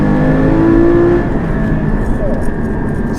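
A Porsche Cayman GT4 engine hums under light throttle, a steady close mechanical drone with a brief whining tone early on and a smooth settling afterward.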